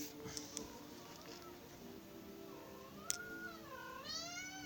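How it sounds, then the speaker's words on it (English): A domestic cat meows several times close by, with rising and falling tonal cries over a low steady indoor hum, the clearest calls coming near the end. "Be quiet, cat."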